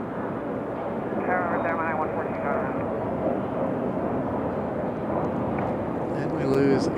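An airplane at Raleigh Durham airport making a go-around, a broad roaring engine rumble that holds steady and swells near the end, with a voice talking over it.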